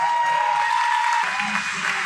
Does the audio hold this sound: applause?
yes